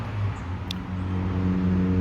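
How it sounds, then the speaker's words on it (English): Road traffic, a car driving past with a steady low engine hum that builds slightly toward the end, moderately close. "Can't control the traffic or what people drive and how it sounds."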